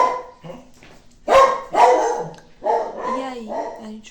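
A dog barks several times in loud, close bursts at a home where a woman is in labour, the barks spaced unevenly with short gaps between them.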